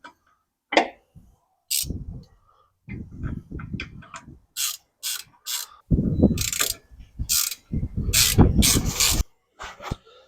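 Bolts snugged into place on a 2008 Ford Mustang rear axle with a leaking seal, close ratchet clicking in short irregular bursts with metallic scrapes and pauses between.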